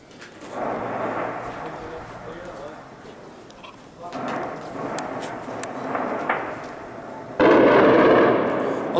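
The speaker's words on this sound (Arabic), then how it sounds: "طيران الميج يقوم بقصف أحياء درع بلد" Heavy rumbling blasts and roaring bursts from MiG aircraft bombing residential districts of Daraa al-Balad, rising loud near the end beneath excited shouting voices.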